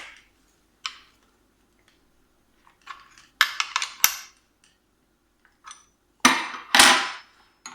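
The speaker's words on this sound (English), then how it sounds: "Do that up nice and tight using your 13mm spanner." A 13mm spanner tightens a nut on a tail tidy fitted to a KTM Duke 790 or 890, with sparse, close metallic clinks and ratchety scrapes separated by short silences.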